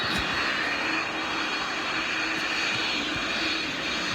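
Steady, loud roar of a large cargo jet's engines, resembling a Boeing 777 freighter, a continuous broadband rush with a whining tone on top that holds constant throughout with no voices.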